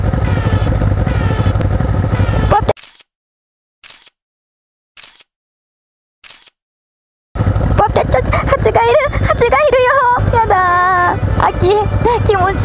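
A motorcycle fitted with a quick shifter rides through traffic and drops down through the gears to second at a red light. The engine revs rise and fall loudly and steadily, broken by a stretch of near silence before the riding resumes.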